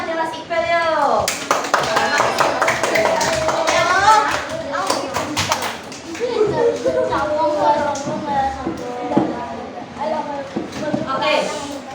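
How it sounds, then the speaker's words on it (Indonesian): Classroom audience applause for Mas Iqbal during a teacher-training lesson: a steady patter of many hands clapping that runs throughout, mixed with near voices of people talking over it. "berikan aplaus pada Mas Iqbal, yuk"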